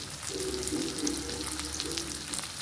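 Mackerel fish frying as a green fry in a pan, a steady close sizzle and bubbling hiss running throughout with no voices.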